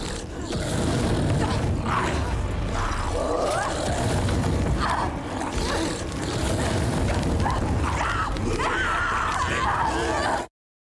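An enemy fire attack in Senua's Saga: Hellblade 2 roars and rumbles in a loud, continuous wash of booming, crackling noise with grinding, creaking textures, then cuts off abruptly.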